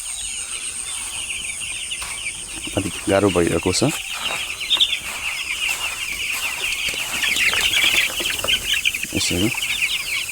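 Eleven-day-old broiler chicks in a shed on a hot morning cluck and cheep in a steady chorus, with a few louder calls standing out, while someone talks over them.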